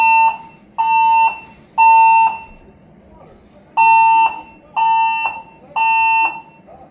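A harsh electronic fire alarm in a hotel in Monroe, Louisiana sounds in steady repeated bursts, about one per second, pausing briefly partway before resuming; some faint background murmur underneath.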